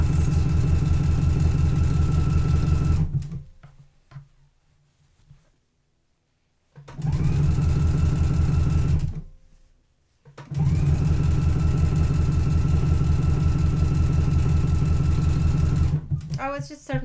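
A sewing machine stitches a cardigan jacket in long steady runs of fast, even mechanical whirring, stopping twice for a few seconds of near silence before starting again loud and close.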